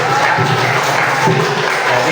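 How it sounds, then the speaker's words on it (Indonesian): A classroom group gives steady, dense applause at a Pancasila education lesson, a continuous wash of clapping at even loudness with faint crowd murmur mixed in. "berikan tepuk tangan"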